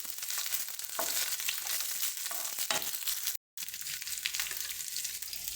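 Shallots, garlic and small pieces of coconut sautéing in hot oil for a pirandai thuvaiyal, a dense, loud crackling sizzle with a few stirring scrapes and a brief dropout partway through, no voices.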